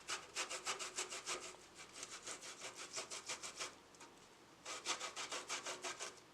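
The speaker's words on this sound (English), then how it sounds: "Let's grate all our cassava." Cassava root is scraped briskly across a kitchen grater in fast, rhythmic rasping strokes, close and clear, with a brief pause midway before the steady back-and-forth resumes, no talking.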